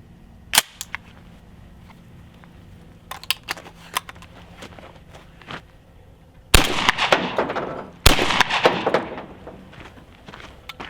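Shotgun, a trusty 1400, firing a 1 oz load over 24 grains of Universal Clays, two loud, sharp blasts a couple of seconds apart with ringing decay, preceded by a few fainter pops and clicks.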